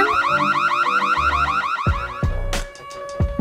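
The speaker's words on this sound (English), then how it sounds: "What's that? An alarm?" An alarm wails in a rapid repeating electronic warble, loud and close, then cuts off and gives way to a few sharp bangs and clatters.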